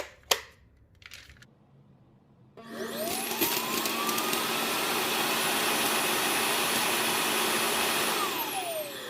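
A robot vacuum's clean base fires up after a few clicks and sucks debris out of the dustbin. The motor holds a loud, steady roar with a whine that rises and then falls.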